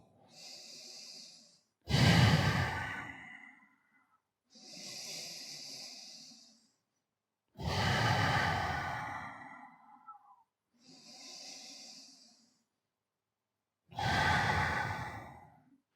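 Slow, deep breathing while lying on a mat in a stretching session: three long loud inhales alternating with softer exhales, each separated by brief silence, close and alone.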